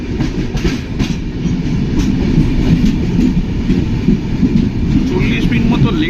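The Sealdah Duronto Express, an Eastern Railway train with a coach built by Integral Coach Factory, Chennai, runs on the rails with a continuous loud rumble and rhythmic clickety-clack of the wheels, with faint voices underneath.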